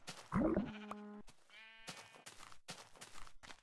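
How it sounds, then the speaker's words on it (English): A gray sheep in the Minecraft Tekkit modpack bleats in a few short, wavering calls, fairly close and clear, with a brief game sound in between and no talking. "whoa, a gray sheep."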